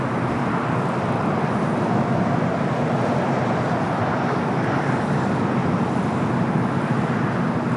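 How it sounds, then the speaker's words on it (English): A United Boeing 787-9 Dreamliner, flight 153 from Hong Kong, on short final to runway 24 right at LAX sends a continuous loud, broadband engine roar that holds steady throughout. "Now short final for 24 right, flight 153 coming from Hong Kong in the 787-9 Dreamliner."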